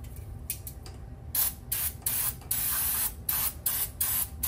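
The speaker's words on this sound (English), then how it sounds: "So we'll use some brake cleaner to try and clean it all out." Short bursts of brake cleaner sprayed onto the drum brake assembly of a third-generation Toyota Tacoma, a series of hissing blasts of varying length, close and loud, over a low steady background hum.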